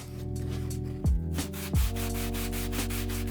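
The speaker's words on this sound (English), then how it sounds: "Next, I'll give the rebates a very light sanding." Light hand sanding of the wooden rebates on a hardwood planter box, heard as quick, steady rasping strokes repeating close by beneath a louder tonal musical background.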